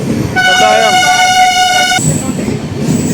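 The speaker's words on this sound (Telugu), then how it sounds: "ప్లాట్ఫామ్ నెంబర్ 1 పైకి అయితే మన ట్రైన్ వచ్చి ఆగింది" An Amrit Bharat Express pulls into Kottayam railway station, its horn sounding a loud, sustained blast for about a second and a half, followed by a shorter high toot, over the rumble of the arriving train.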